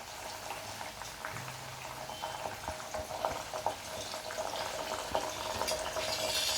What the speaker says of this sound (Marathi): सगळं म्हणजे साहित्य चांगलं तळून घ्यायचं त्याचा अर्क ह्या सगळ्याचा उतरला पाहिजे तेला